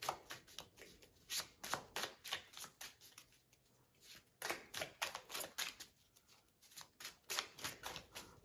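Tarot cards shuffled by hand in a series of quick riffling bursts, each a short papery flutter repeated in an uneven rhythm, close and fairly quiet with no talking.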